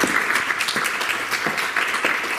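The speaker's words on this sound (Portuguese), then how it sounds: "Aplausos para a Amanda, para o Hilson." Sustained applause from an audience at a Portuguese talk on alcoholism in Montemor, Portugal: dense, even clapping at steady volume throughout, with no voices over it.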